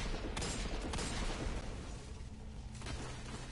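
Rapid gunfire from an enemy player in an online shooter video game, dense volleys of shots rattling close and loud in clustered bursts, continuing at a slightly lower level toward the end.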